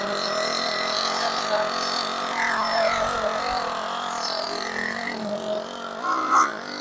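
A Hobao Hyper SS nitro RC truggy engine runs steadily with a buzzy, high-pitched drone, its throttle nudged slightly with small rises in pitch, close by and continuous throughout.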